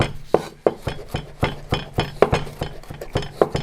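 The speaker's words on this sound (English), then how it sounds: "I'm just chopping up me a little parsley here." A knife chops parsley on a cutting board in a kitchen, a quick run of crisp, irregular taps close by with no one speaking.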